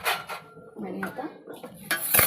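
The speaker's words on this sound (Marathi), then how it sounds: "मिक्स करून घेऊया." A spoon scrapes and clinks against a pan while vegetable masala is stirred, making close metallic scraping with light clatter and a soft sizzle underneath.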